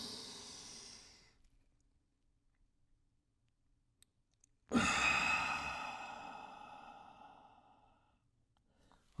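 Deep breathing exercise: a long audible exhale fades out, a quiet held pause follows with a faint click, then a sudden strong breath rushes out and tapers slowly away, close and clear.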